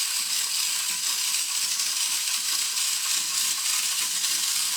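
A wind-up toy cleaning robot walking and sweeping with its moving brush, giving a steady, close, frantic clockwork whirring and rattling without a break.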